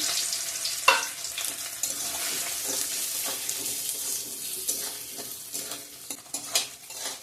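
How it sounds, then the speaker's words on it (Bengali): Small lentils (dal) frying in a pan for vegetable khichuri, giving a steady close sizzle with intermittent stirring scrapes and a sharp clink near the start, no talking. "ডালটা ভেজে নিচ্ছি বন্ধুরা দেখতেই পাচ্ছ একটু লাল লাল করে ভেজে নেব"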